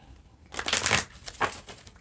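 A deck of tarot cards gets a brisk shuffle, a close, papery riffle of about half a second, followed by a shorter second burst. No one speaks.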